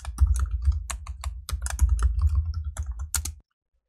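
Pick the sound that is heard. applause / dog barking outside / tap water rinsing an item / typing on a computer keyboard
typing on a computer keyboard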